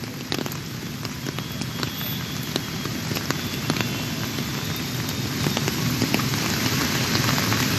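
Heavy rain pours steadily in Salt Lake Sector 5, Kolkata, with a dense, close patter of drops striking surfaces and occasional sharper ticks throughout.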